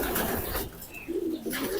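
Racing pigeon of a champion EBK bloodline cooing in a low, soft burst toward the end, preceded by a stretch of broadband background noise; no talk over it.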